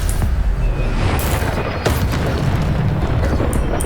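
The Bombarda spell in Hogwarts Legacy goes off as a loud, continuous rumbling explosion with deep booming low end and crackling bursts layered on top, running without a break.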